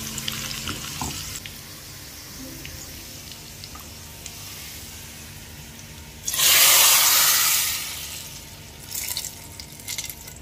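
Tempering spices in hot oil for dal sizzle with a low background crackle, then burst into a loud hissing sizzle for a couple of seconds before settling back down.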